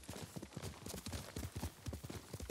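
Rhythmic clip-clopping of horse hooves at a steady trot in Ghost of Tsushima, crisp and close, with a game-like quality and no talking.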